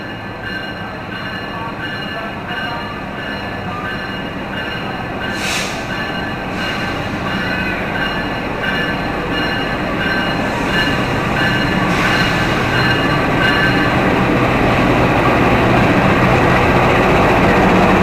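The Arjuno Express train rolls into Surabaya Gubeng station with a steady, loud rumble that builds over time, along with faint wheel squeal and rail clatter, and no voices.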